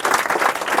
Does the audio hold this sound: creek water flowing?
no